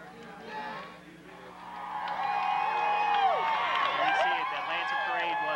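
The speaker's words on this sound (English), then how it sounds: "we have a good Lancer crowd here tonight" Lancer home crowd at a 1998 Kansas high school football game, a swelling roar of cheering and whoops with scattered claps, loud and sustained, with voices talking over it.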